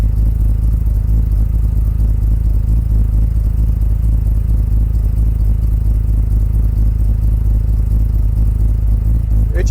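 A Mazda RX-5 project car engine idles steadily and close by, a continuous low, even rumble with no talk over it.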